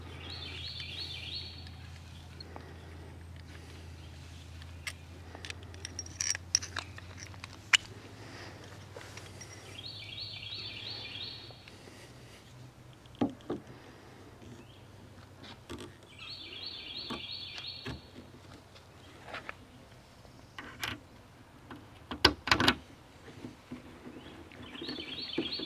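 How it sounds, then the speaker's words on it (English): Faint bird chirps sound at intervals over a quiet outdoor background, distant and scattered, with occasional soft knocks and rustles nearby. "as you could probably hear the birds"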